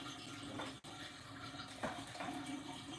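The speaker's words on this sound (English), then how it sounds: "you guys are going to hear my sink drain real quick" Water rushes down a loud kitchen sink drain, a steady broadband gurgling flow that stays close and fairly loud throughout, with a brief dropout and a few surging splashes partway through.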